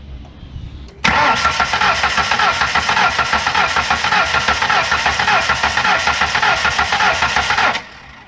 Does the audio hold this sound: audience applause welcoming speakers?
no